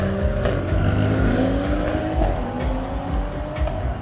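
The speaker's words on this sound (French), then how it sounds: "On a une Golf 5 GTI qui va passer aussi" A Volkswagen Golf 5 GTI passes loudly at a car gathering in Nîmes, its engine revving and tires squealing as it drives by close, a continuous roar with shifting pitch.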